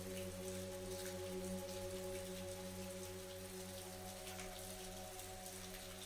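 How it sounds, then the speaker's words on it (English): Steady rain patters on leaves in a meadow near a lake, a soft continuous wash of drops with faint steady tones underneath, no voices. "the sound of raindrops on the leaves"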